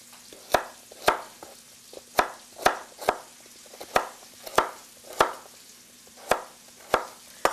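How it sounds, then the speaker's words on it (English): Vegetables coarsely chopped with a knife on a cutting board, a steady series of sharp, close knocks about every half second, over a faint low background hum. "we just want to give these a coarse chop as well"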